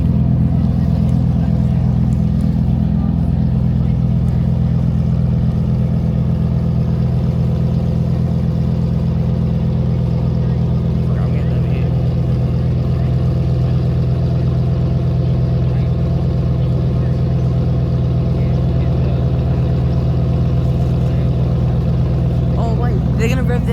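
An STO sports car engine running at a Sports Car Sunday meet, a loud, close, steady drone that holds at a constant pitch, with faint voices in the background.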